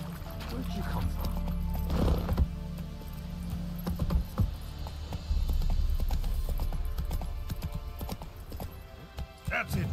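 The horse Roach galloping in The Witcher 3, rapid rhythmic hoofbeats clip-clopping steadily over ground with harness jingle, mid-close, with someone speaking over it.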